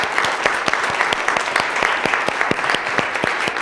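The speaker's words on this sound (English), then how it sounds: "How about a round of applause for Philip?" Applause from an audience at an Oklahoma City city council meeting, steady dense clapping with sharp individual claps standing out, sustained and fairly loud throughout without talk.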